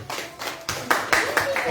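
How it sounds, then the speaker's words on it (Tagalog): A worship congregation clapping hands in praise, a handful of distinct rhythmic claps that grow louder, with voices faintly underneath. "Palakpak po sa Panginoon."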